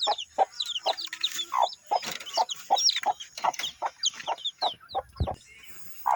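A hen clucks repeatedly in short, close bursts, with high peeping chicks chirping busily around her.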